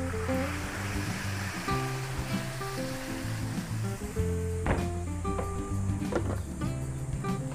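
Broth poured into a hot cooking dish of Filipino food already seasoned with sesame oil, making a steady loud wash of liquid and sizzle, with a few clinks of utensils near the end.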